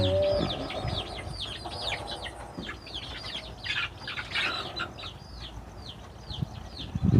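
Chickens at a rural Thai homestead give repeated rising chirps and squawks, overlapping calls from several birds close by, with a few thumps and rustles under a steady outdoor background.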